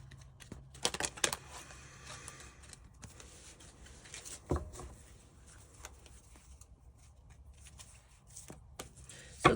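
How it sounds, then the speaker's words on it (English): Tarot cards shuffled by hand, a papery riffling with a burst of quick flutters early on, a sharper snap midway and scattered soft card rustles throughout, fairly quiet and close with no talking. "All right, let's add to this deck and shuffle."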